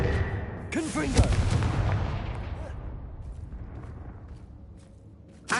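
A Confringo spell blast in a Harry Potter video game goes off as a loud, booming explosion with a crackling burst. It then decays over several seconds into a fading rumble, and a faint sharp hit follows at the end.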